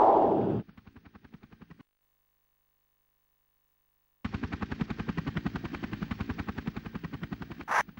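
A Chinook helicopter in the video game Army Men Air Attack 2 gives a rapid rhythmic rotor chop, loud, then a brief quiet gap before the pulsing thump returns steadily.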